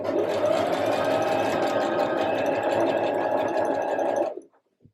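Sewing machine running a steady straight stitch while fabric is folded along a curved seam of a wide-leg jumpsuit, a continuous close motor whirr for about four seconds before stopping abruptly.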